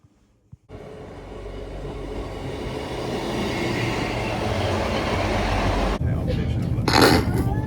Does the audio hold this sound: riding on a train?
yes